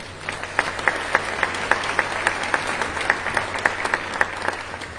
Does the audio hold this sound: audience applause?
yes